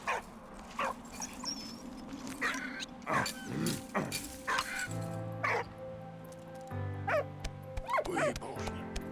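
A dog whimpering and yelping in short, high, uneven cries over faint background ambience, with some deeper barks and humming tones mixed in.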